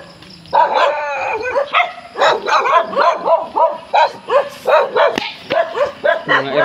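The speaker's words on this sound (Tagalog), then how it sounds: "Ang daming aso." Several dogs barking loudly and close by in a neighborhood street, a rapid repeated string of sharp barks and yips continuing throughout.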